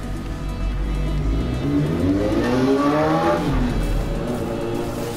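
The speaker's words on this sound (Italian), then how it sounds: "Che bello le moto che passano davanti a casa mia" Motorcycles in GTA V pass close by, engines revving and rising then falling in pitch as they sweep past, a loud continuous roar with overlapping engine whine.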